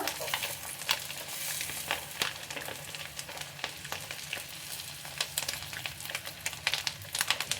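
Eggs frying in a pan for a spicy egg pepper fry, steady close sizzling broken by scraping clicks as the pieces are flipped.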